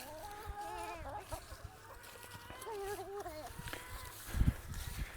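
Farmyard chickens cluck and squawk in short, uneven bursts at close range, with a low thump and rustling near the end and a person's voice faintly in the background.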